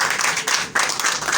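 Church congregation clapping together during a lively service, a dense, steady wash of hand claps filling the room with a brief dip partway through, no voices standing out.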